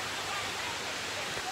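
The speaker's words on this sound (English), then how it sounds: "just down, it's like a raging waterfall" Raging waterfall at Amicalola Falls in Georgia, heard as a loud, unbroken broadband roar of rushing water that fills the whole stretch evenly, with no break and no voices rising above it.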